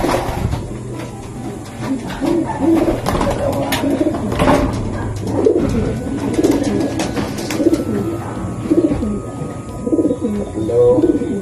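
Pigeons, including a checkered hen, coo repeatedly and close by in a loft. The soft rhythmic coos overlap steadily, with occasional talking from a man nearby.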